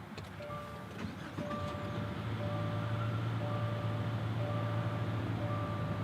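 A 2023 Subaru Ascent Touring starts at the push of a button, a brief crank giving way to a low steady idle hum while a soft electronic chime repeats evenly.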